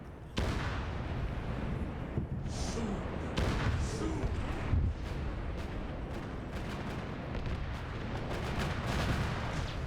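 Artillery and gunfire from turrets in the Arma video game: a dense, continuous barrage of booms and shots, some near and sharp, others distant and rumbling, with faint voices underneath.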